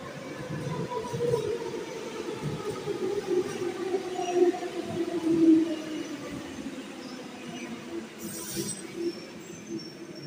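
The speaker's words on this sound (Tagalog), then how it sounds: "So, ayan yung tren." A steady low rumble of a train rolling along in Greece, with faint rhythmic clatter and brief metallic squeals rising over the continuous noise.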